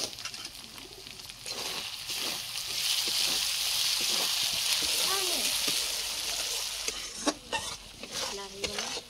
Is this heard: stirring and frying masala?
yes